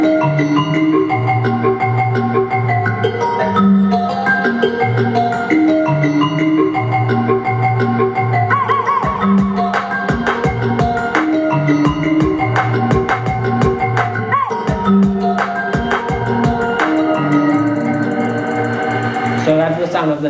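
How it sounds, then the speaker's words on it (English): Musical tones generated from the colours of a tie form a synthesized melody of sustained, layered notes with a steady pulse, loud and continuous for about twenty seconds. "So that's the sound of the tie that I would get in the party"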